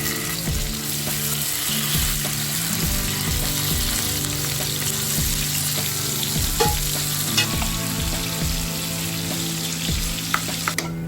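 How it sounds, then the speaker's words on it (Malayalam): Boneless chicken, seasoned with salt and pepper, fries steadily in hot oil with a dense, continuous crackle, broken by occasional clinks and scraping knocks of a utensil stirring in the pan. "അതിനുശേഷം എണ്ണയിലൊന്ന് ഫ്രൈ ചെയ്തെടുക്കാം."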